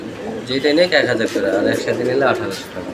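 Pigeons coo at a pigeon farm with soft, throaty repeated calls, close by, alongside the chatter of people talking.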